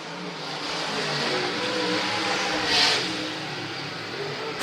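Modified race cars roar around a short track in Richmond, Kentucky, a dense wash of engines coming off a turn with one car surging louder as it passes near the midpoint before the pack noise settles.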